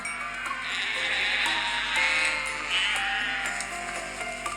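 A group of sheep bleating in overlapping, sustained calls, fairly close, with no talk.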